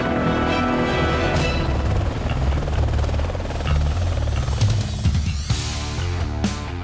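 A helicopter flies overhead during a border anti-drug-trafficking operation in Mato Grosso, Brazil, its rotor thumping loud and steady with a harsh buzzing whine that swells in the closing seconds.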